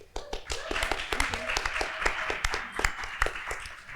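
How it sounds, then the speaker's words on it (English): Audience applauding music educators at the 2025 Alaska Music Summit, with crisp individual hand claps over a broad patter of clapping from a room full of people, steady for several seconds before thinning slightly at the end. "All of them deserve big rounds of applause"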